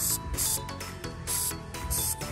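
Short bursts of aerosol tar and sap remover spray hiss onto a car, about four of them, separated by brief pauses with faint mechanical clicks between.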